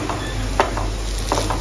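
Onions sizzle and crackle in hot oil, frying to golden brown for Punjabi kadhi pakora, with a few light stirring scrapes over the steady frying hiss.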